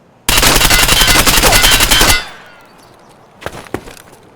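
Assault rifle firing full-auto in Escape From Tarkov, a loud rapid burst of about two seconds with evenly spaced shots, then a short decaying tail and a few fainter clicks and clatters afterward.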